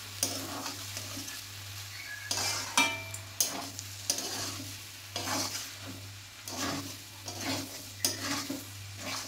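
Cabbage curry seasoned with garam masala is stirred in a pan, giving repeated close scrapes and clacks of a spoon over a soft, steady sizzle.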